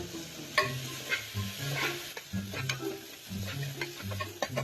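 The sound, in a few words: chicken sizzling in a pan for chicken curry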